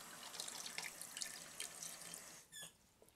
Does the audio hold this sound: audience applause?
no